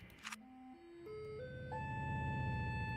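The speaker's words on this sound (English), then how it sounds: "the sound replacement is actually meant for an engine, and so it changes pitch depending on the speed" A truck engine sound in the video game Cities: Skylines 2, a synthetic steady tone that steps upward in pitch several times as the vehicle speeds up, then holds a sustained drone.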